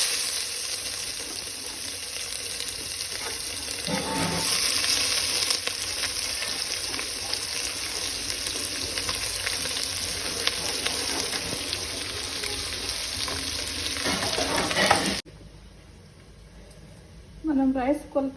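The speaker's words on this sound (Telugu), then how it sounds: "బాగా వేగిన తర్వాత ఉల్లిపాయ వేసుకుంటున్నాను." Sliced onions sizzle in hot oil for biryani, a steady bright frying hiss that runs loud, stops abruptly near the end, then gives way to a few short clatters.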